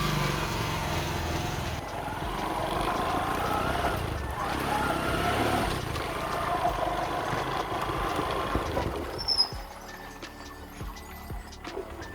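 A motorcycle engine idles and runs steadily after a new speedometer is fitted, a continuous mid-level drone with slight revving swells before it drops to a quieter, rougher idle near the end.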